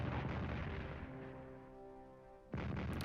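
Defensive artillery fires on the outskirts of Paris in Strategic Command World War 1, a deep booming blast that rumbles and decays over a couple of seconds before another heavy impact cuts in.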